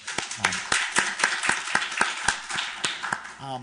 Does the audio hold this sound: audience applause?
yes